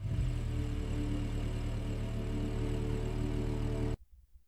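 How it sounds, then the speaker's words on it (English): A car engine turns over and settles into a steady, rumbling idle close by, then cuts off abruptly. "the engine start sound matches the animation perfectly"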